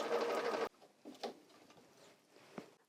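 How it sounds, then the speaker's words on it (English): A sewing machine stitching a quarter-inch quilting seam runs briefly in a rapid, close, steady buzz, then stops, leaving faint light taps and handling noises. "Sew your seam in what you think is the perfect 1/4 inch or scant 1/4 inch."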